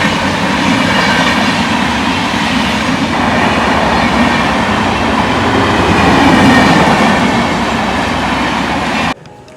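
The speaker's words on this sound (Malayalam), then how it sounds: "ട്രെയിൻ വരുന്നുണ്ട്" A train arriving at a station, heard close and loud as a continuous rumble of rail wagons with rhythmic clacking wheels, running without talk until it cuts off abruptly near the end.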